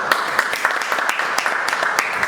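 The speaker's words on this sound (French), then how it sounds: "Donc on peut applaudir les acteurs" Audience applauding actors before a scene, a short burst of scattered hand claps with no cheering.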